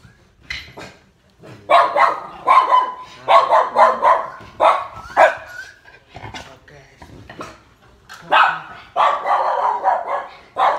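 Charlie, a pet dog, barks repeatedly and loudly indoors at a repairman working upstairs, in clustered bursts with short pauses and a person talking between them.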